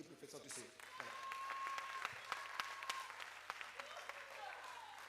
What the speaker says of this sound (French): Est-ce qu'on peut applaudir pour le festival Tousseo?